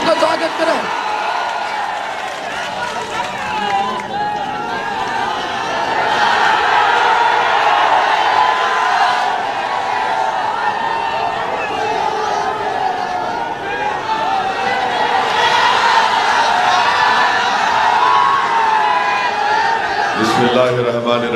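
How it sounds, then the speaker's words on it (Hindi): A large crowd at an AIMIM public gathering welcomes Barrister Asaduddin Owaisi with sustained applause and cheering, a broad roar of clapping and whoops that swells and carries on loudly for about twenty seconds. "जोरदार तालियों से बैरिस्टर साहब का स्वागत करें।"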